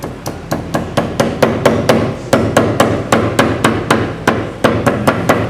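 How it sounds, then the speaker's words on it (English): A hammer pounds wet papyrus slices to press the water out, about twenty steady, evenly spaced thuds delivered close by in a continuous rhythm, with no one talking. "we take the water out by using a hammer like this in this way"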